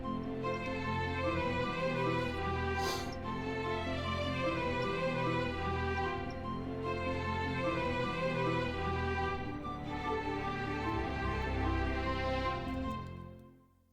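An orchestral string section plays a long, sustained passage in a cover, rich layered harmonies swelling steadily before fading out at the end, with no voices.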